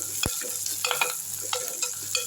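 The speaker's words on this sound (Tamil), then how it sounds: "வெங்காயம் ஓரளவுக்கு வதங்கிடுச்சுங்க" Onions sautéing in a hot pan on a gas stove, a steady crackling hiss with occasional scraping stirs of a utensil.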